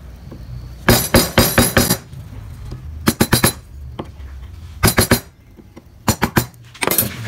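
A hammer or mallet strikes a wood carving chisel in quick bursts of three to five sharp, loud taps, separated by short pauses, close up and with no talk.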